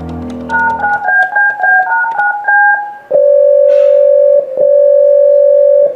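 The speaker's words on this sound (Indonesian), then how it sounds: "Coba saya telepon lagi." A telephone ringback tone plays while a call is being placed, following a quick run of short electronic tones. The steady ring repeats with a brief gap, loud and close, and no voices are heard.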